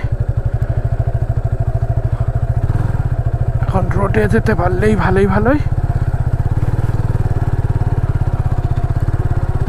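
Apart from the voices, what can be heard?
motorcycle pulling away in first gear on beach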